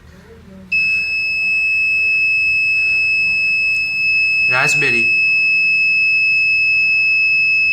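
A Raspberry Pi 3 voice assistant alarm beeps with a steady high electronic tone, sounding continuously after a brief spoken word, with a burst of voice partway through.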